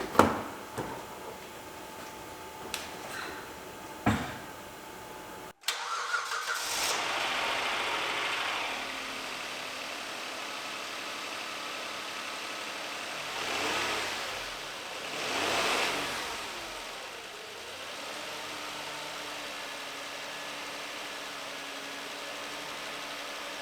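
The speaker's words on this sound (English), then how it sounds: "since the engine quieted down with just those 3 quarts oil" A Kia Sorento SX AWD engine idles steadily and fairly quietly after a few clanks and a brief cut, with soft swells of wind or passing noise, just after oil was added to a badly low engine.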